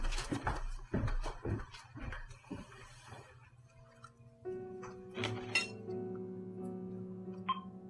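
Kitchen dishes and glasses clink and clatter while lunch is made, with several sharp knocks early on followed by lighter ringing glassy chinks, fairly quiet and close, with no talking.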